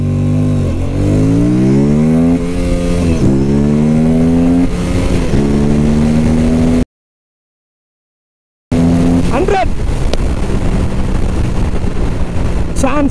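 An Aprilia RS 457, a 450cc sport motorcycle, accelerates flat out from 0 to 100, its engine revving hard up through several gears with a rising whine and sharp drops at each shift. A short gap of silence breaks the run before the engine pulls again.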